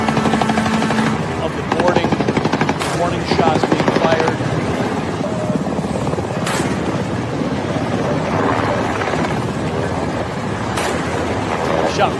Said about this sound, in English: this is the footage now of the boarding, warning shots being fired